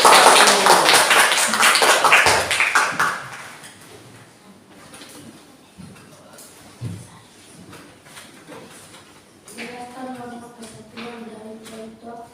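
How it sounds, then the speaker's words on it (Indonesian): Classroom applause for a student group, a burst of clapping from a small class for the first few seconds that fades out, followed by quieter room sounds and a voice speaking near the end. "Tepuk tangan untuk kelompok 1."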